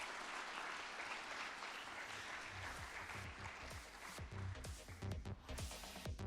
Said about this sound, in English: Can we please have a huge round of applause again for all of them?